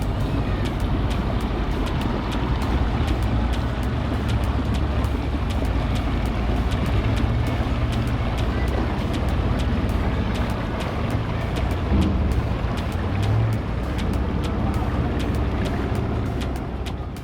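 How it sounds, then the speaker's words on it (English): A vehicle stuck on a boat ramp spins both rear tires, producing a loud, continuous roar of engine and tire noise that holds steady throughout without pause, with no voices heard. "Here we can see they're not getting very far as both the rear tires are spinning"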